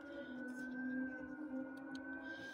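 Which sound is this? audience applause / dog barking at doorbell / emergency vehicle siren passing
emergency vehicle siren passing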